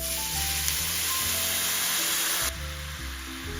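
Garlic sizzles steadily in hot oil in a pan, a loud, close, continuous hiss with low background music, the sizzle dropping slightly in level partway through.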